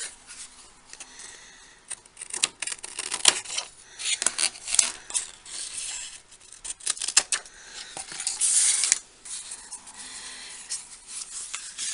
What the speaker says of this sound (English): with your scissors, cut off the excess.